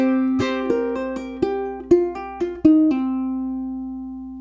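An acoustic guitar in a fingerpicking etude plays a short strum pattern: about nine crisp strums in a steady rhythm with shifting chords, close and clear, ending on a final chord that rings out and fades alone.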